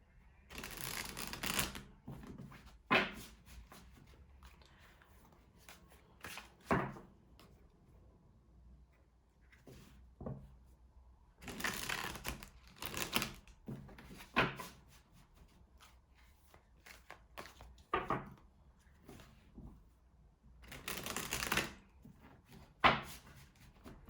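Tarot cards are shuffled in several quiet bursts of crisp riffling and flicking, separated by pauses with soft handling noises.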